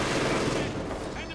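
Veteran MG42 machine gun crew firing in Company of Heroes 2 during a 2v2 match, a brief dense burst of gunfire, fairly loud, blended with battle noise.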